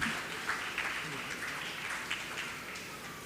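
Audience applause at a primary school graduation ceremony, a steady wash of clapping from a crowd heard at a moderate distance, fairly soft and continuous with a few louder bursts.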